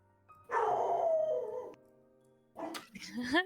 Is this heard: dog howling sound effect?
yes